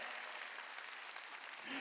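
Church congregation clapping during a Wednesday worship service, a short burst of dense, steady applause filling the room, fairly quiet and even throughout.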